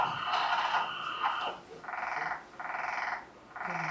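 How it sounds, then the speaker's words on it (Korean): A gold-spotted pond frog calls from a Korean wetland: three evenly spaced, buzzy pulsed croaks follow a brief louder sound at the start, close and clear over quiet background. "금개구리."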